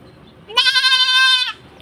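A single loud, drawn-out goat bleat lasting about a second, clear and close, with quiet surroundings before and after.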